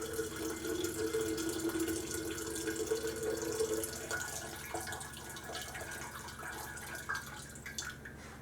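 Water from a tap runs steadily while silver crystals are rinsed, a continuous splashing flow with faint drips, alone and fairly quiet throughout.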